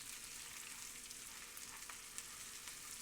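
Onions frying in oil in a pan give a steady, close, broadband sizzle with a few small pops, continuous and without speech.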